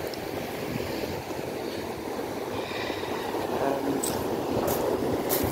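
Surf washing onto Gorleston beach, a continuous broad rushing of waves with wind buffeting the microphone, swelling slightly louder toward the end and heard without speech.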